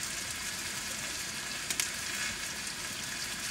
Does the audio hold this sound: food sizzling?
yes